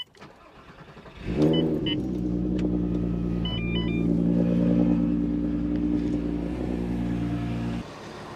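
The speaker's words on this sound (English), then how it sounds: "start the vehicle" A car cranks briefly on a Topdon V2200Plus jump pack, then catches and settles into a close, steady idle rumble that carries on for several seconds before dropping off near the end.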